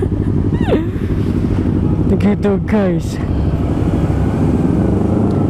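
A stock Kawasaki Ninja ZX-25R with its factory exhaust drones loudly and close by, holding a continuous engine note while someone talks over it.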